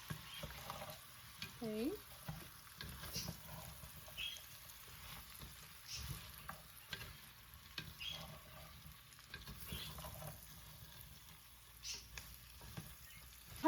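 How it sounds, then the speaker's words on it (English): Carrot and mixed vegetables frying lightly in oil for a quail and barley dish, with a soft steady sizzle and occasional stirring scrapes, fairly quiet; a voice briefly says a word. "غادي نعطيوهم واحد التشحيره خفيفه في الزيت"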